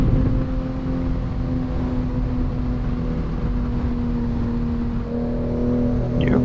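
A car engine roars at high speed through the rain-slicked Shutoku expressway at night in a racing video game, a steady loud drone with a slight dip and a fresh surge near the end.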